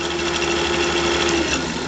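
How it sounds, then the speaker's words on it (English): A cutter machine running steadily after being switched on, a continuous even motor whir with a constant hum and no breaks, close by and with no talking. "To turn your cutter on, obviously on off, you can see that it's on when this is spinning."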